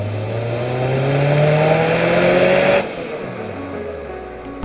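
A 2004 Acura TSX accelerates hard, its exhaust note rising steadily in pitch as the revs climb, loud and close, then dropping off abruptly as the throttle lifts.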